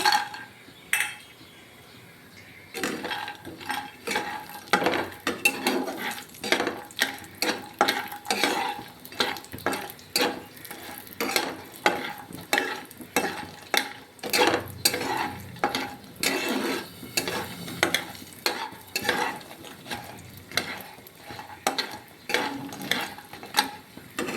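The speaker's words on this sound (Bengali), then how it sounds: "প্রথমে আমি বড়িগুলোকে একটু লাল লাল করে ভেজে নিব" Dried lentil dumplings frying in hot oil with frequent scraping and stirring clinks of a utensil against the pan, continuing steadily throughout with no talking.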